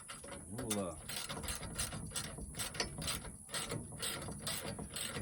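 A hand ratchet turns a 13 millimeter socket, giving close, rapid, repeated pawl clicks in quick back-and-forth bursts throughout, with some mechanical clatter.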